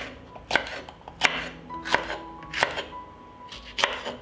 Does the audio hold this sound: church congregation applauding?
no